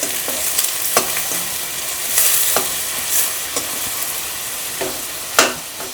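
Prawns stirred and fried on a medium flame make a constant close hiss, broken by sharp scraping strokes of a spoon at irregular intervals, with no talking.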